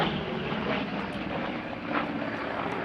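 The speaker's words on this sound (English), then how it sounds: "we're finishing the show today with the ultimate American piston engine fighter" A Grumman Bearcat piston-engine fighter flies at a Duxford summer airshow, its engine a continuous droning roar at moderate distance that stays even throughout, with no talking.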